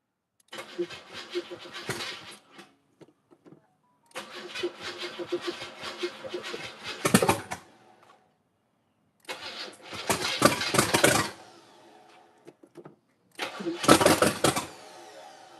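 A newly built car engine is cranked several times in a garage, each attempt a separate burst of starter churning that rises to a sputtering roar before cutting off, with people talking between attempts.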